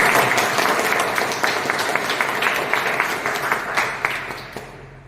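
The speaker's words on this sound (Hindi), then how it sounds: "एक बार जोरदार ताली, जोरदार" Steady applause from an audience at a business plan presentation, dense clapping sustained throughout and slowly fading toward the end.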